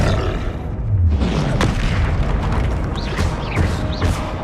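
Confringo fire spell blasts in Hogwarts Legacy land as dense, loud booming impacts during combat, rough bursts and roars piling up, with several sharp whooshing spell hits near the end.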